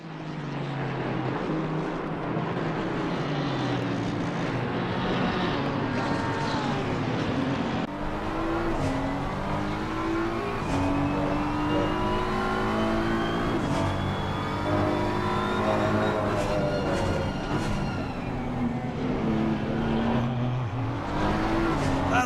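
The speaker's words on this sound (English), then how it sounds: "That's a lot of cars all piled up together." A tightly bunched pack of race cars roars continuously around the Misano circuit, many engines layered and rising and falling in pitch as they accelerate and pass, loud and dense throughout.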